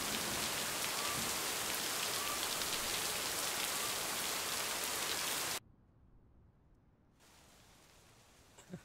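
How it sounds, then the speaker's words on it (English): Heavy rain pours down loudly and steadily, then abruptly cuts off to near quiet before a faint hiss returns. "That rain is ridiculously loud."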